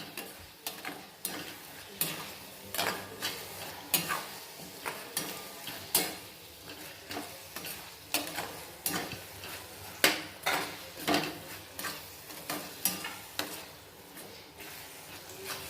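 A spoon stirring green turmeric curry in a pan, with repeated sharp scraping clacks against the metal in a steady rhythm over a soft frying hiss, close and moderately loud.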